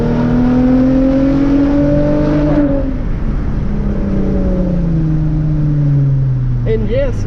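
A Hyundai Genesis Coupe accelerates hard, its engine note rising loud and close, then easing and falling through a long pull, with a brief sound near the end.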